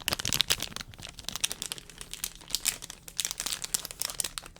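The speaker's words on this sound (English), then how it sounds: "But we got that crinkly plastic sound." Crinkly plastic packaging around an unopened Ahsoka keychain being handled close up, a dense run of crackling, rustling crinkles with small sharp peaks, steady and intimate with no talking.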